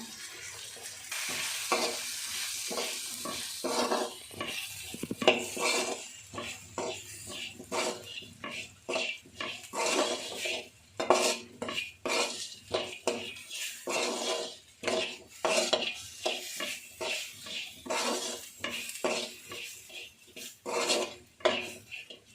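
Chili powder and coriander powder stirred in a pan for an egg kulambu (muttai kulambu). A spoon scrapes and knocks against the metal in steady, repeated strokes, close and continuous, with a light sizzle underneath.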